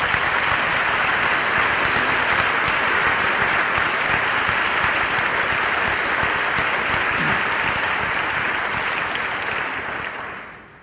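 Sustained, dense applause from a commencement audience welcoming the speaker, loud and steady for about ten seconds before tapering off at the end.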